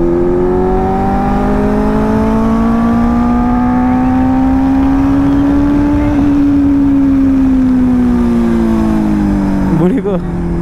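A Benelli 600i superbike ridden at speed, its engine whine climbing steadily, then easing and falling away, loud and close with a brief rough burst near the end.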